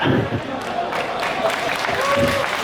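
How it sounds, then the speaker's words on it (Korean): Audience applause at a Korean traditional liquor sommelier competition stage, greeting a contestant: steady, dense clapping from a crowd filling the whole moment, with faint voices mixed in. "수고한 선수에게 큰 박수 부탁드리겠습니다"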